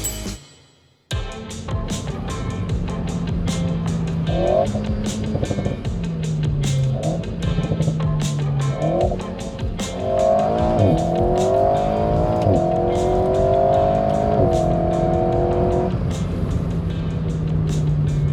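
Alpine A110 sports car driven hard, engine loud and close, revving up and down through gear changes, with tires squealing through corners and a steady roar of road and wind.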